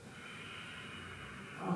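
A single slow, steady breath held through a yoga pose, soft airy exhalation close to the microphone that swells slightly at the very end, with no talking.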